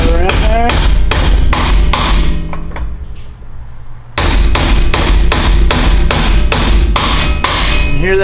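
A new wheel bearing is hammered into a hub with a loud, regular series of sharp metallic blows, about a dozen strikes, with a short pause midway before the steady pounding resumes.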